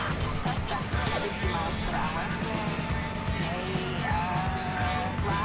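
A car in Grand Theft Auto 5 drives hard with a steady engine roar and repeated tire squeals and skids, close and continuous, under occasional voices.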